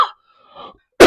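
A single person coughs in short, sharp bursts, one brief cough at the start and a louder one at the end, close and alone with a quiet gap in between.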